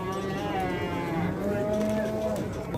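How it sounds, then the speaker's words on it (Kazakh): Cattle low at the Tokmok livestock market, several drawn-out moos rising and falling over a busy crowd murmur, fairly close and loud. "Тоқмақ мал базары"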